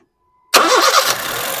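A 2009 Honda City S MT petrol car's engine cranks and catches after a short silence, settling into a steady, fairly loud idle up close.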